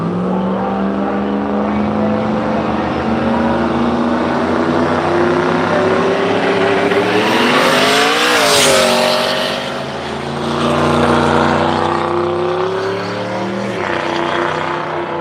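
A drag-racing street machine's engine roars close by as the throttle is applied and released, the pitch climbing to a sharp peak, dropping, then rising again, loud and steady with no talk.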